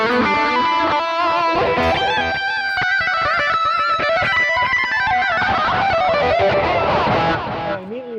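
A distorted electric guitar tone from a BOSS eBand JS-10 plays a loud, continuous run of sustained notes and fast melodic lines, ending abruptly.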